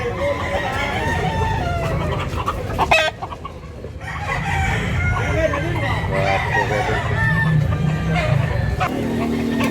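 Roosters crow and hens cluck at a chicken sale in northern Cebu, loud close calls repeating over a busy background with people talking nearby and a brief quieter gap partway through.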